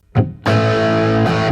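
Electric guitar played through a Positive Grid Spark 40 amp on a glassy preset, a short picked note followed by a bright, ringing sustained chord with rich shimmering overtones, loud and close.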